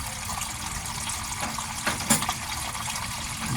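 Steady water pours and gushes continuously from the running small-block engine of a flooded 1970 Chevelle, with a brief louder splash partway through; no voices.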